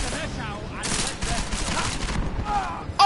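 Rapid bursts of machine gun fire from the video game Deus Ex: Mankind Divided, dense and close, running almost continuously with brief gaps.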